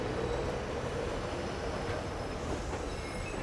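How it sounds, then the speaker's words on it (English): An East Coast train pulls out toward King's Cross after a delay, a loud steady rumble of wheels and carriages on rails with faint squeals, continuous and close, without voices. "Finally, after 30 minutes of delay, the train can head out to King's Cross."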